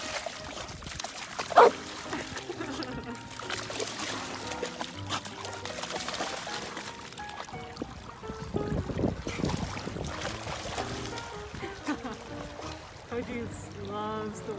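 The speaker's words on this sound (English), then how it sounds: "Are you barking in the water?" A dog barks and whimpers while swimming, with water splashing and trickling around it, the barks close and intermittent under a person talking.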